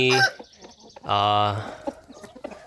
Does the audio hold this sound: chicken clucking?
yes